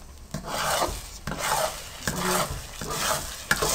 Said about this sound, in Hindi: सारे किनारों पे आपने चम्मच को घुमाना है।